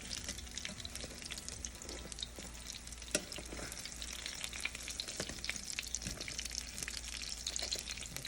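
Jamaican fritters sizzle steadily in hot oil, a dense continuous frying crackle with faint watery splashes, close and alone without talk.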